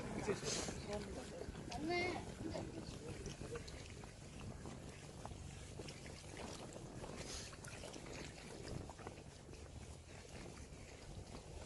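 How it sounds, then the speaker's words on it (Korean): Sea water at a tidal mudflat on Korea's west coast washes and laps softly under wind noise, with people talking quietly nearby. "바다 소리 들리시죠?"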